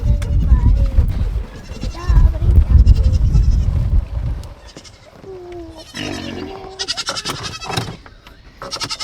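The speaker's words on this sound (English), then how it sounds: "How we doing, goats and pigs?" Goats on a farm bleat loudly and close by, several wavering calls in the second half, after a stretch of rumbling handling noise and movement.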